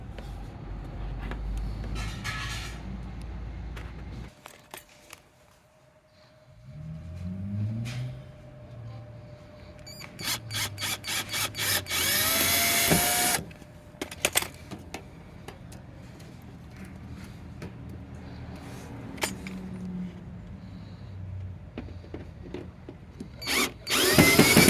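A power drill driving screws while mud flaps are fitted to a 2012 Mazda 5, with short whirring bursts, loud high-speed spins and clicking handling noises close by, separated by quieter pauses.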